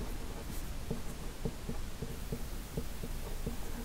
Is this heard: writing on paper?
yes